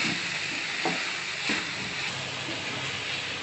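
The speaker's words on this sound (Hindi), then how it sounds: "इसको स्टे करते हुए हम 5 मिनट तक कुक करेंगे।" Mixed vegetables for a veg biryani frying in oil, with a steady broadband sizzle and a few soft scrapes of a spoon stirring through the pan, close and continuous with no talking.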